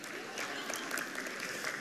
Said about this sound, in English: You're allowed to give yourself a clap.